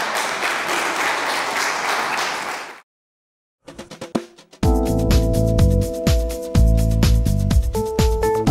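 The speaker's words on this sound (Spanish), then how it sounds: "Un aplauso al Señor." A church congregation bursts into loud, sustained applause that cuts off abruptly, then after a short silence, music begins.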